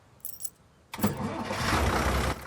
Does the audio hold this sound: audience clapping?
no